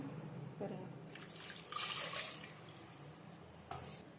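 Water splashes and trickles in short bursts as it is poured into mashed greens, fairly close and moderately quiet, over a soft background hiss.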